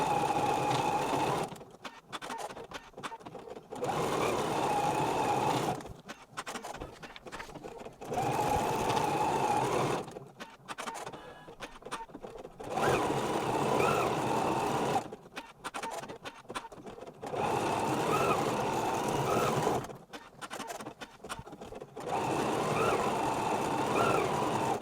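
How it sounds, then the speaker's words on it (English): An embroidery sewing machine runs tack-down stitches on a sparkle tote bag, sounding in steady bursts of rapid close-up stitching separated by brief pauses, with no talk. "I'm going to press start stop, and it's going to do the tack down stitches again"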